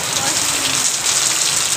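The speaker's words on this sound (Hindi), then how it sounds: "फुल बारिश आ गई" Heavy rain pours down in a loud, continuous rushing hiss, close and steady throughout with no breaks.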